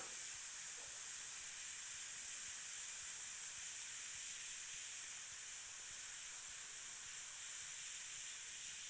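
An airbrush sprays paint in a random pattern for an underpainting texture, giving a steady, unbroken airy hiss that stays constant the whole time.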